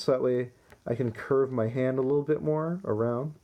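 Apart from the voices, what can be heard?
No everyday noise stands out behind the speech.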